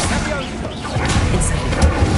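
A Bombarda blasting spell explodes in the Hogwarts Legacy video game as a dense, loud rumbling burst of booming and crashing noise that fills the whole short moment, with a voice partly mixed in.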